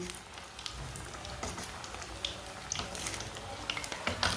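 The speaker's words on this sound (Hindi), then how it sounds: "ऑयल ज़्यादा गर्म होना चाहिए, फिर फ्राई करना इसमें।" Egg balls frying in hot oil, a steady crackling sizzle with dense popping bursts throughout, close and fairly loud, no voices.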